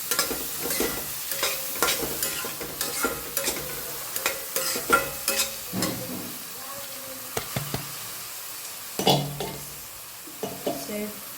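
Spoon stirring coriander-cumin powder through sizzling food in a frying pan, with irregular scraping strokes and soft clinks over a low frying hiss.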